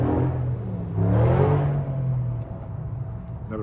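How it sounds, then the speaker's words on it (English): A nearby car engine revs and drones, its rumble swelling for a moment and then easing back to a steady idle-like hum. "never fails somebody making noise with their car"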